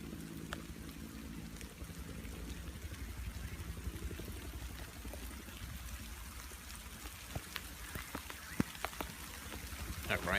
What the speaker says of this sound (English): That rain's starting to get heavy.